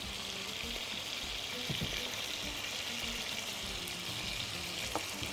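Chicken pasta with mozzarella and parmesan cheese is stirred in a pan, giving a steady close sizzle with soft scraping and wet stirring sounds throughout.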